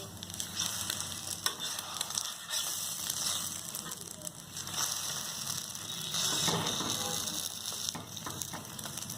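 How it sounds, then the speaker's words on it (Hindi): Egg paratha pan-frying in vegetable oil while a spoon presses it down: a loud, continuous sizzle with scraping and clicking from the spoon against the pan, close and steady. "अब हम इसे दोनों ओर से गोल्डन ब्राउन होने तक हम इसे सेकेंगे।"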